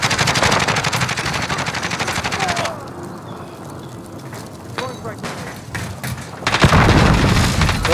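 Rapid automatic gunfire and heavy booms from a Call of Duty: Modern Warfare match, loud and dense at the start, easing to sparser shots and a short lull midway, then surging again into intense sustained fire with voices talking over it.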